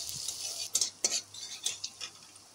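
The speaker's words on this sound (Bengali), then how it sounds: "দিয়ে দেব পেঁয়াজ কুচি। পেঁয়াজ কুচিটা ভাজা করে নেব।" Chopped onion fries in hot oil in a pan for chicken kofta curry, a soft steady sizzle punctuated by several sharp scrapes and clinks of a spatula stirring against the metal pan.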